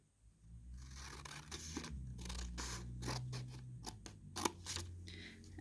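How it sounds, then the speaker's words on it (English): Scissors cut paper strips for a paper crocodile craft, a series of soft, close snips and scraping rustles at an uneven rhythm, fairly quiet, with no voice over them. "So here I've been cutting every 3 strips, and I count 1, 2, 3 and cut"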